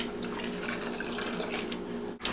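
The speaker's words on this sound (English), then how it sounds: "We're going to dunk our grains a few times." A bag of grains is dunked repeatedly into hot mash water while brewing a pale ale, giving continuous close sloshing and splashing water noise.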